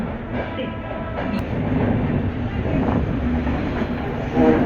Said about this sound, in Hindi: हमारी ट्रेन नई दिल्ली स्टेशन को अलविदा करते हुए निकल रही है